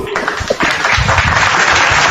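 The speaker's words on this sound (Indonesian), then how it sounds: "Tepuk tangan dulu." Audience applause at an interfaith discussion event, breaking out after a brief pause into steady, dense clapping from a crowd that fills the rest of the moment.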